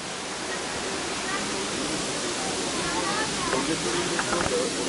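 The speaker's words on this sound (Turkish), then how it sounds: "Küçük şelaleler de varmış." Small waterfalls at Erfelek Tatlıca Falls pour with a steady broad rushing hiss throughout, close and continuous, with faint voices in the background.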